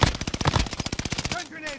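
Rapid LMG machine gun fire in a battle royale video game, a loud close burst of about twenty evenly spaced shots that cuts off abruptly into a brief ringing tail.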